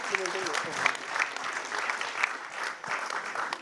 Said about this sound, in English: And a round of applause to send them off.